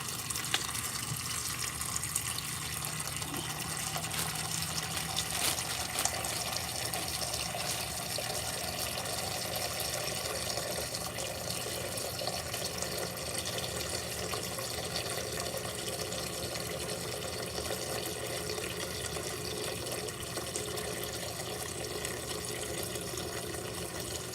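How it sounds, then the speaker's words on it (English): Water poured in a continuous stream to fill a water filter, a steady gushing and splashing that runs unbroken for over twenty seconds at close range, with no talk. "I'm going to put some water in. I'm going to push this down so I want to filter the water."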